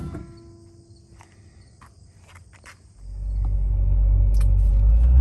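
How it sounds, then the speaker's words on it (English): A 1990 Porsche 928 S4 fitted with a stage 3 supercharger drives off, its engine swelling from a quiet idle into a deep, loud, steady rumble. Faint ticks and insect-like chirps sit above the engine. "Okay, we're just driving down here in this 1990 928 S4."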